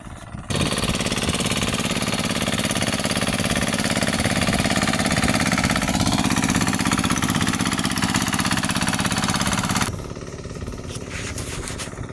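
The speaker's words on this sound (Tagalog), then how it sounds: "Ipupunta niya din yung makina. Tractor." A tractor engine runs on a farm with a loud, constant close-up rattling drone that suddenly drops to a lower, quieter running sound near the end.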